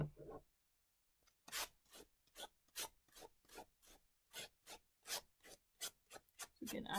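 Rhythmic back-and-forth sanding strokes, about a dozen quick scrapes in steady succession, close and crisp, after a brief quiet start.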